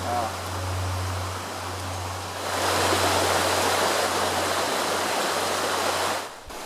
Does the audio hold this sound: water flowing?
yes